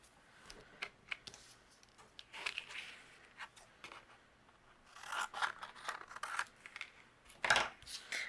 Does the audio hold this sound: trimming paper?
yes